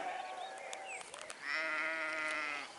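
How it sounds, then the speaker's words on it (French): Sheep bleating on a salt meadow, with several calls of varying pitch early on followed by one long, loud, wavering bleat close by, against a quiet outdoor background. "on se retrouve en bordure sur un petit parking d'un pré salé rempli de moutons"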